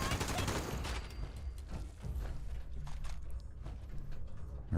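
Rapid bursts of automatic gunfire rattle in Fallout 76, dense and close at first, then thinning into scattered shots with a brief lull in the middle.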